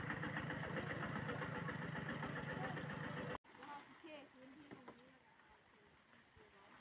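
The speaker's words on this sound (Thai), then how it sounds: "ตอนนี้กะย้ายรถไถลงมาละ" A steady, throbbing tractor engine idles loudly for a few seconds, then cuts abruptly to a quieter rumble with faint voices and scattered background sounds.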